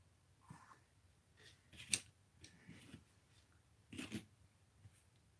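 Scissors snip craft material in several short, crisp cuts, quiet and close, spaced irregularly with brief rustling between them and no talk.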